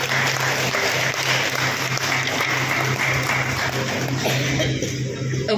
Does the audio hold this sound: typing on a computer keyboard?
no